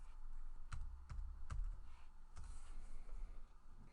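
Several crisp keystrokes on a computer keyboard as a keyword search is typed into Oracle Cloud HCM test software, irregular taps spaced across a few seconds, close and clear over a low room hum.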